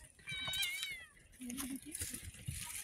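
Hungry cats meow while being fed, a clear wavering meow up close followed by softer mews and rustling, with a person talking quietly alongside.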